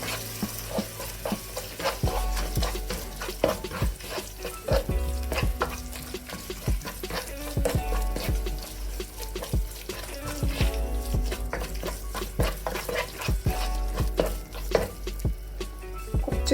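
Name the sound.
stirring ground masala with hot water in a pan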